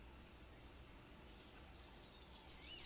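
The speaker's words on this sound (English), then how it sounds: "This is some birds, the Aberdare National Park." Small birds in Aberdare National Park, Kenya, give high, thin chirps and trills, a few isolated calls at first and then a quicker run of twittering, faint against a quiet background.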